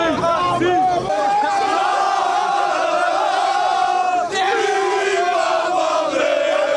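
A crowd of Moroccan football supporters shouts and chants outside the Prince Moulay Abdellah sports complex in Rabat. The voices are loud and close, with sustained, overlapping cries that keep going without a break.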